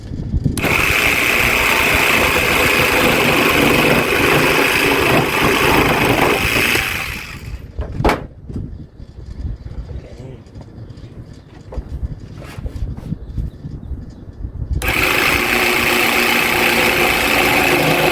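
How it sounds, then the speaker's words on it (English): A jigsaw cuts wood for a DIY kitchen shelf: a loud, steady buzzing whine runs for about seven seconds, drops to quieter clatter and handling knocks, then starts up again near the end. "Jigsaw."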